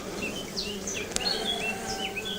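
Bees from a newly opened bee package buzz agitatedly close by, a dense hum with several sharper individual buzzes darting in and out, steady and moderately loud.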